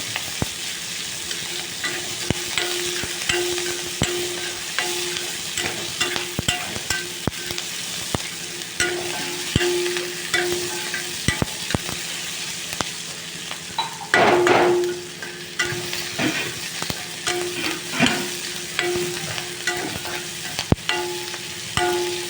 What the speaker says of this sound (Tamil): கொஞ்சமாக வதக்குங்க ரொம்ப நேரம் வேணாம்